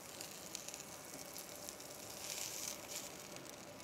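A cod fillet fries in a pan and is flipped once browned, giving a steady, soft sizzle with a slight rise as the fish turns over.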